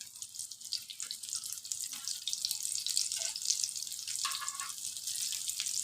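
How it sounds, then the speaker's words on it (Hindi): Cauliflower shami kebab patties sizzle in hot ghee and oil, a soft, continuous hissing crackle with faint spitting that swells slightly as more patties go into the pan, heard alone without talk. "तो ये अब मैं टिक्कियाँ जो हैं ये इसमें मैं अब डालती जाऊँगी।"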